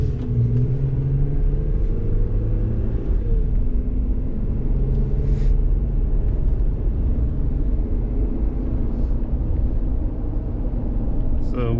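Steady roar of tires and road noise inside a 2018 Jeep Wrangler JL Rubicon cruising at about 35 mph on a busy road, with a continuous low rumble and faint passing traffic.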